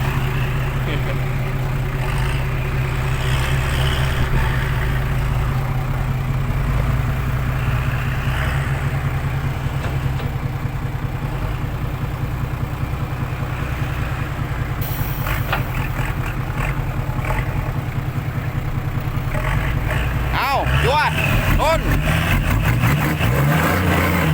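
A tractor engine, stuck, drones steadily and loudly throughout, swelling toward the end as it strains, with voices talking over it.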